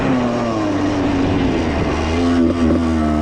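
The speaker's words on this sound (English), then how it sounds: "I just do a burnout in the yard" A 1995 Suzuki RM125 two-stroke motorcycle doing a burnout in a yard, its engine screaming at high revs in a steady, loud buzzing drone with slight pitch wobbles.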